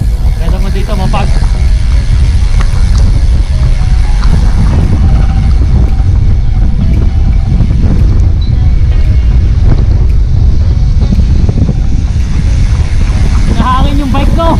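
Steady, loud wind roar buffeting the microphone while a bike rolls downhill on a road toward Tagaytay via Cardiac in Silang, Cavite, continuous throughout with talk over it.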